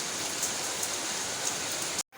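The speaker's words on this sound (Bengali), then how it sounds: "বৃষ্টি দেখতে পাচ্ছ কি ওয়েদারটা এবার ফাটাফাটি হচ্ছে" Steady rain falls in a dense, even hiss with scattered drop patters, loud and close, before cutting off abruptly near the end.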